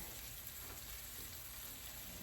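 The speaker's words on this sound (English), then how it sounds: "do you hear that sizzle? That is what you want. Super scorching hot pan and hot knots." Steady, close sizzling of garlic butter on garlic knots in a very hot pan, a continuous crackling hiss with no break and no talking.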